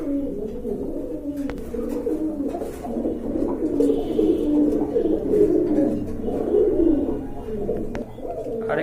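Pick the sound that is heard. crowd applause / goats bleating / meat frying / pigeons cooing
pigeons cooing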